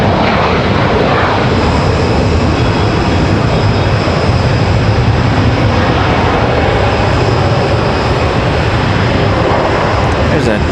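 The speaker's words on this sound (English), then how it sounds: "There's that ERJ coming around the corner there." An Embraer ERJ regional jet taxis at Raleigh-Durham International Airport, its engines giving a loud, steady roar and whine close by throughout, with people talking underneath.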